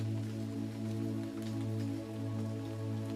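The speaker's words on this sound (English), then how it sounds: "The drops make a gentle pitter-patter on the cheerful fabric as she begins to walk down the road." Light drizzle falls in a steady, soft patter of raindrops over a constant low hum, with no voices.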